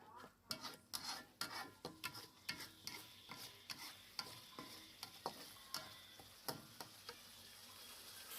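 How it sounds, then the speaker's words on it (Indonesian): Balado sauce with brown sugar is stirred in a sizzling pan, a spoon scraping in a steady rhythm of about two strokes per second, close and fairly quiet over a continuous frying hiss. "kita aduk supaya rata. Kita tambahkan gula merah."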